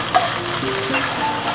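Ginger paste sizzles gently in a pan over a low gas flame, a soft continuous frying hiss with faint stirring.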